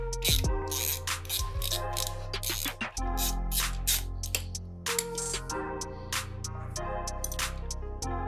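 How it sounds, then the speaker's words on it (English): A ratchet spanner spins a nut off the brake pedal bolt on a dirt bike, giving rapid bursts of sharp clicking close by, faint and alone. "So we're gonna get a ratchet spanner, hold it on the back, and take it all the way out."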